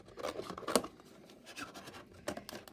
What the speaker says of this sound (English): I'm going to cut this end off